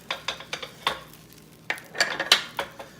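Eggs for a breakfast burrito cooking on a hot pan, with a soft sizzle under a series of sharp scraping and tapping strokes from a utensil against the pan, coming in irregular bursts.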